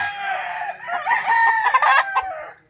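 A young rooster (a stag) clucks, then lets out a strained, breaking crow, loud and close, with nothing else around it, in a backyard in Rosario, Batangas.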